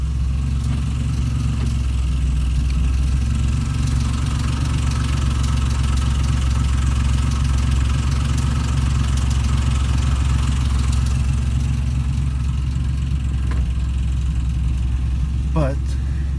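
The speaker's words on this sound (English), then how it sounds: "As y'all can hear, the engine still sounds a little bit rough." A car engine idling roughly, a loud, close, steady low rumble sustained throughout, with a person talking over it.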